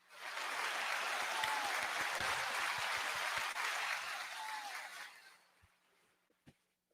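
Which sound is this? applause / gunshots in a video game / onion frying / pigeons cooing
applause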